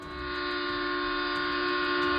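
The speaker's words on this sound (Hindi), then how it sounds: "ट्रेन की सीटी।" A train whistle blows as a single sustained, steady tone that swells in and holds, fairly loud and alone.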